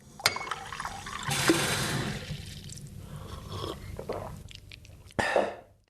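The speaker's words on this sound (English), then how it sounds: "drinking unboiled water from the tap is something I would not do in most Southeast Asian cities" Unboiled tap water drunk from a cup at a bathroom sink: faint liquid sloshing and swallowing sounds with a couple of sharp clinks or gulps, close and fairly quiet, with no talking.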